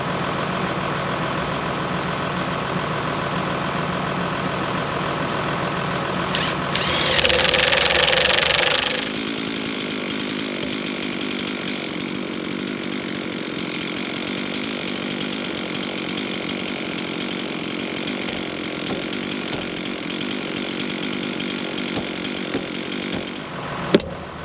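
Kinghitter S2i post driver with a Dominator base drilling in a stay for a round fence post: a steady, loud engine drone throughout, rising into a harsher, louder drilling surge for a few seconds before settling back.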